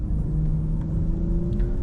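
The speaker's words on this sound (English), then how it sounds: "hopefully y'all still enjoy hearing the car" A stage 2 BMW M340i drives along a rainy road, its engine holding a steady mid-pitched drone with a constant whir and rumble from inside the cabin, loud and unbroken.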